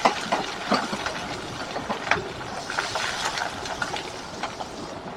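Grated ginger drops into hot oil already holding whole cinnamon, cloves and cardamom for a cauliflower roast, giving a steady close crackling sizzle with brief sharper pops throughout.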